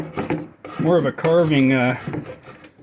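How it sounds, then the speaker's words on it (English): A draw knife held at an angle slices and carves along a piece of wood, giving close scraping strokes with a squealing, tonal screech as the blade bites in the middle of each pull. "What I like to do is have my draw knife at an angle, start it towards one edge, and then slice."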